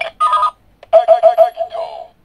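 A Kamen Rider Decade K-Touch toy phone gives a loud electronic ringing call tone, a short buzzy burst followed by a run of pulsing beeps that fade out.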